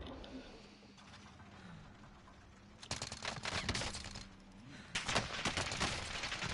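Gunfire in the video game Warzone comes as dense bursts of rapid automatic shots, two loud clusters of sustained fusillade rising out of quieter background noise.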